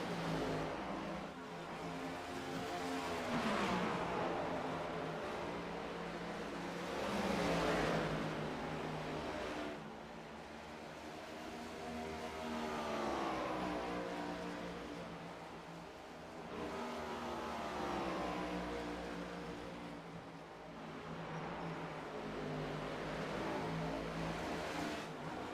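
Stock race cars at Dover in the Downforce Racing Series roar past in repeated waves, engines rising and falling in pitch as they approach and pass, loud and continuous.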